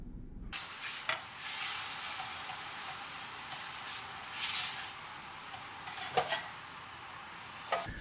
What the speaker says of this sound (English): This is the last batch of meat that I seared.